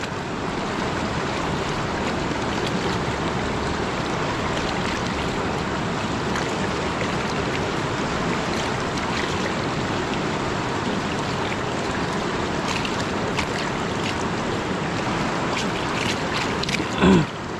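A river current runs steadily while someone washes for gold in a provincial stream, a continuous broad rushing wash of water with no voices, holding level throughout.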